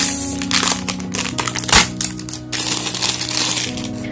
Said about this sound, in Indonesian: aku suka loh sama bunyi-bunyi plastik begini